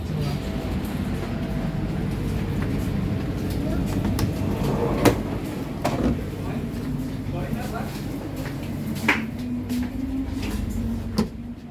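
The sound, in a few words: Kertanegara executive train arriving at Kroya station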